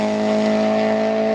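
A 2000 Honda Civic Si with a B16A2 engine holds a loud, steady high rev, its strained mechanical scream sustained and close with no pauses.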